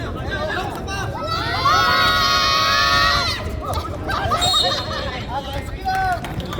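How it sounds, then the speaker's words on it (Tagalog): A crowd at a semifinal basketball game screams in unison, loud and sustained, in high shrill bursts over a steady hubbub of voices, fading and then rising again. "Ang galing ng mga sumisigaw na audience"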